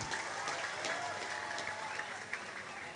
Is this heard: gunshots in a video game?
no